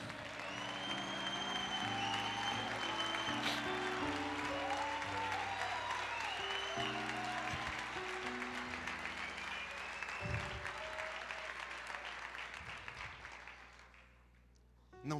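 A church congregation claps and cheers in a sustained wash of applause layered over steady organ-like music, gradually thinning out toward the end.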